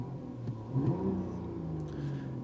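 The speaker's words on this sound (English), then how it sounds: "Finishing it off with a few more revs for you" A Mercedes-Benz CLE coupe's six-cylinder engine revs steadily at close range, with one brief swell partway through, then settles into a sustained mid-pitched drone with no talking.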